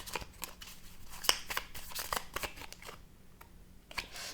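Tarot cards being cut and shuffled at a reading, giving soft papery riffles and flicks with a sharper snap partway through, close and quiet with no talk.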